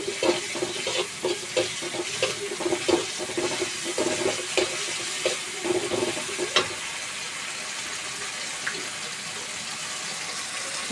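Ginger paste frying in a pan for a Bengali tengra fish curry, a soft steady sizzle with intermittent stirring scrapes and taps through the first two thirds, then a quieter continuous hiss.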